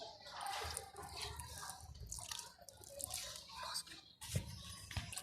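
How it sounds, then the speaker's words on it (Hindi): Water poured onto the potting soil of young eggplant seedlings, heard as soft irregular trickles, drips and splashes close by, with a few sharper splashes near the end and faint background noise. "अब हम इसे पानी दे देंगे।"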